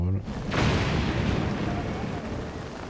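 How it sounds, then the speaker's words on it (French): A lightning strike in Zelda: Tears of the Kingdom lands as a loud, sudden crack and then rolls into a long, broad rumble that slowly fades. "Les éclairs qui leur tombent sur le coin de la gueule."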